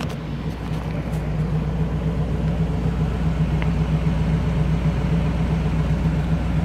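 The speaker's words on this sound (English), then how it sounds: "let's go to the back here so you can hear the exhaust on it" A 1978 Pontiac Firebird Formula idles from the rear, its exhaust a steady low rumble with an even throb that holds constant and close for several seconds.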